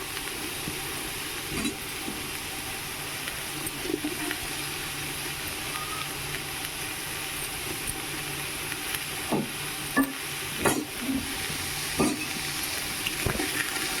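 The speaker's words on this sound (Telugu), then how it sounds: "టమాటాలు సాఫ్ట్గా అయిందాక ఫ్రై చేసుకుందాం" Tomato pieces frying in a pan for egg rice, a steady broad sizzle and hiss running throughout, with occasional clinks and stirring knocks on top.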